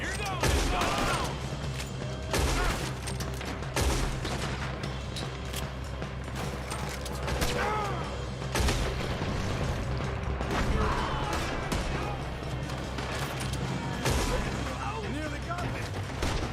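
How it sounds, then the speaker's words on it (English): Rapid gunfire from enemies in a video game, bursts and single shots cracking repeatedly across the whole stretch over a steady rumbling backdrop, with voices talking at times. "why are they all shooting at me?"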